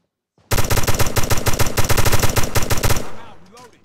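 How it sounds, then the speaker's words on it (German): Rapid automatic gunfire in the video game America's Army Proving Grounds, a loud sustained burst of about two and a half seconds with tightly spaced shots, then a fading tail with faint distant sounds. "Oh, da kommen Schüsse."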